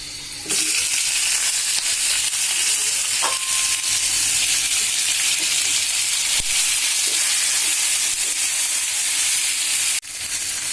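Taro greens with shrimp sizzle steadily in a frying pan, a continuous close hiss with a few soft stirring knocks and a brief clatter near the end.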